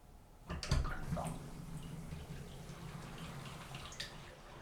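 Water draining out of a new bathroom vanity sink, a brief gush and splash at the start that settles into a soft, continuous gurgling trickle, faint and close, with no voices.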